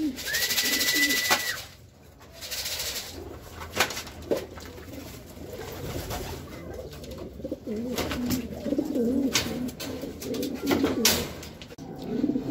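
Racing pigeons cooing softly and repeatedly at a loft during a derby race from Bacnotan, La Union to Pasig, low murmuring calls close by with occasional rustles, a brief whistle and faint background noise.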